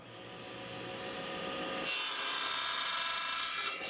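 Saw cutting through a wooden mortise test piece, a steady rasping cut that turns brighter and harsher halfway through, close and continuous.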